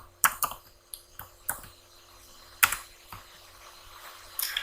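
Someone types a URL on a computer keyboard: a handful of sharp, close key clicks in an irregular rhythm, with quiet gaps and no talking.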